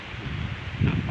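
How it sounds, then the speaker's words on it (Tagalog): A gentle breeze blows outdoors in a quiet residential area at night, a soft, low rushing against the microphone that swells slightly near the end, with no talking. "Sarap ng simoy ng hangin"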